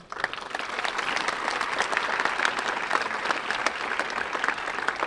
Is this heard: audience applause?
yes